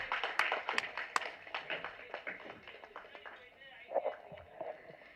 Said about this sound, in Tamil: ஒரு பெரிய கைத்தட்டல்கள் கொடுக்கலாம்.